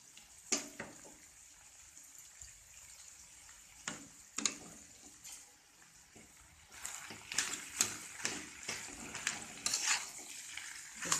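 Cauliflower samosa filling stirred in a pan with garam masala, salt and fresh coriander, giving close scraping and mixing strokes over a soft sizzle, with sharper clattering bursts growing busier toward the end.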